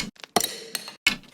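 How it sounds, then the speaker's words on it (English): Garage-style Foley hits, a quick handful of separate glassy clinks and cracks, each short and bright with a brief ringing tail, quiet and spaced apart. "Make sure to also grab yourself some garage Foleys that individually sound like this."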